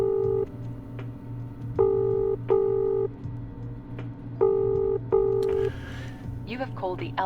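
Telephone keypad tones from a video game, six separate beeps in an uneven rhythm over a steady background hum, followed by a short electronic chirp and a burst of noise at the end.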